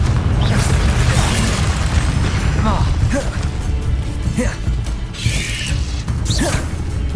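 Confringo fire-blast spell cast in the Hogwarts Legacy video game: repeated booming bursts with creaky, mechanical clatter, set in a dense, busy game soundscape with faint voices mixed in.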